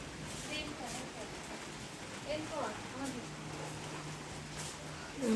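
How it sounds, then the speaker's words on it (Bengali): Heavy rain falls as a steady, even hiss of broadband noise throughout, with a faint voice and a low hum in the background. "অনেক বৃষ্টি হচ্ছে।"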